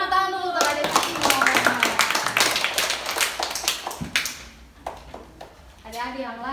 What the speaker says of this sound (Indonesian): tepuk Tepuk tangan dulu untuk adik Timo